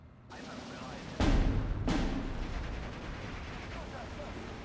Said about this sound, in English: Mortar wrecking me.